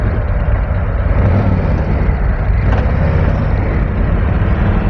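Engine of a 2023 Harley Davidson CVO Street Glide motorcycle, a loud, steady, deep rumble running close and unbroken throughout.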